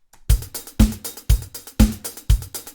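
A punchy drum loop repeats with heavy, booming kicks and crisp hits, steady rhythm, loud and close.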